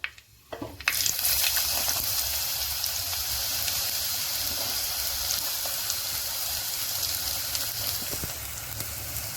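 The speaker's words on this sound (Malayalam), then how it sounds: "വറ്റൽമുളക് ഒന്ന് മൂത്ത് വരുമ്പം അതിലേക്ക് അരിഞ്ഞു വെച്ചിരിക്കുന്ന സവാള ചേർത്ത് കൊടുക്കുക" Sliced onions hit hot oil with dried red chillies and flare into a loud, crackling sizzle that settles into a steady hiss. It sounds close, with small pops scattered through the frying.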